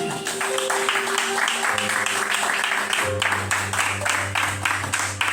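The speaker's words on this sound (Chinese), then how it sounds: "好，请给自己掌声鼓励，谢谢。" A choir class of teachers and students breaks into applause after singing, a dense patter of clapping over a lingering sustained tone.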